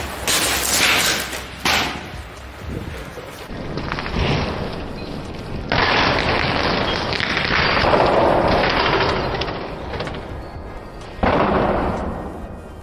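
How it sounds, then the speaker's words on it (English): A vial holding the remnants of liquid cesium bursts on a wet valve, giving loud, rough crackling blasts and sputtering roars that surge and drop off in several waves over a dozen seconds. "We have decided to destroy the vial with the remnants of liquid cesium by throwing it onto"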